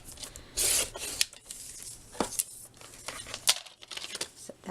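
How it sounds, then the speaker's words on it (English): Paper for a scrapbooking layout is trimmed with a cutter: a loud rasping slide of the blade, then softer rubs, taps and handling noises close by. "let's go ahead and trim this down to 5."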